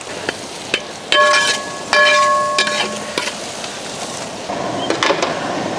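Onions and dried red chillies sauté in hot oil for a chicken kondattam, giving a steady close sizzle with sharp scrapes and clinks of a stirring spoon against the pan.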